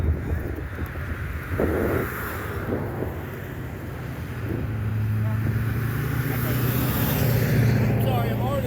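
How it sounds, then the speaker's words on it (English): Street traffic rumbles through a public outdoor spot in West Plains, Missouri, with wind buffeting the microphone and a vehicle growing louder toward the end, all under overlapping talk. "I can't hear you because of the traffic."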